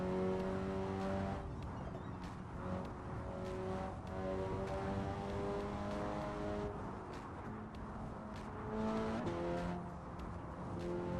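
A car engine revs and drones steadily in the racing video game No Hesi, a continuous tonal whine rising and falling over about eleven seconds, with occasional tire squeal and no voices.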